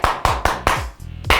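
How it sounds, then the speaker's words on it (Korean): Several sharp hand claps, about five in quick succession, each a crisp broadband burst with short decay, played close and loud with no talking over them. "박수!"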